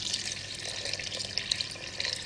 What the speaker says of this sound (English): Add water as much as you want to add water.